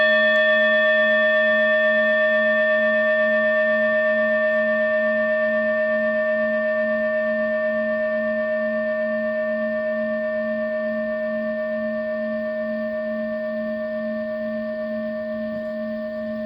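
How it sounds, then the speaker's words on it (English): Mindfulness bell ringing in the background, a single clear metallic tone with rich steady overtones that hangs in the air and slowly fades across the whole length, alone without talk. "I don't know if you can hear that bell in the background, but that is a mindfulness bell"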